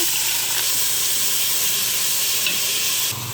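Onion frying in a little oil in a pan, a loud, steady broadband sizzle and hiss close up, briefly stirred, with no talk.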